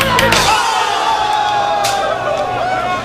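An air hockey crowd cheers and shouts in a loud indoor hubbub, with whoops and overlapping voices rising above a constant babble.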